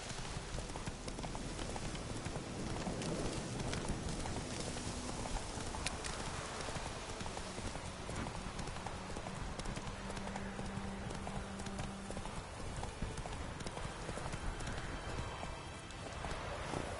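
Horse hooves clip-clopping in The Witcher III video game, a steady run of dense, even hoofbeats under a constant wash of rain-like game ambience, with faint speech.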